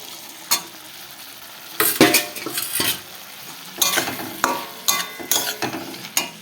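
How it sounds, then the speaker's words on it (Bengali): Fried snails and potatoes tipped into spice masala in a pan, bursts of loud sizzling and scraping stirring that come in irregular clusters, close up, with no talking. "এই যে ভেজে রেখেছিলাম শামুক আর আলু তো দুটোকে একসঙ্গে দিয়ে দেবো"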